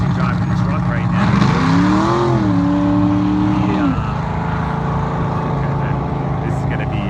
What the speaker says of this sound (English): I think that's Roll actually driving the truck right now